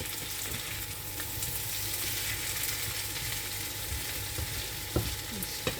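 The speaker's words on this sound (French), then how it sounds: "Et on laisse griller 2-3 minutes comme ça, c'est bon, bien mélangé." Ingredients for an inexpensive holiday salad fry in oil in a pan, a steady close sizzle running throughout with occasional stirring knocks and scrapes.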